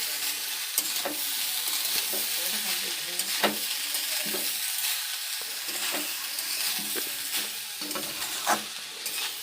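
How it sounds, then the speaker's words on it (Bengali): Rice frying in a pan tempered with dried red chili, a steady close sizzle punctuated by regular scraping strokes of a spatula, moderately loud, no talking. "এই ভাতটা ভেজে নিলাম"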